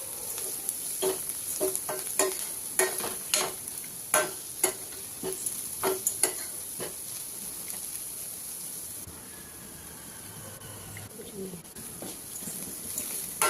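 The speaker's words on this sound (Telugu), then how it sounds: "ముందుగానే దంచి పెట్టుకున్న వెల్లుల్లి కారం మిశ్రమాన్ని కూడా వేసేసి నూనెలో పచ్చివాసన పోయే వరకు కాసేపు ఫ్రై చేసుకోవాలి" Pounded garlic and chili paste fries in hot oil with a quiet, steady sizzle, while a spoon knocks and scrapes against the pan in a run of sharp clicks that later fade to a faint hiss.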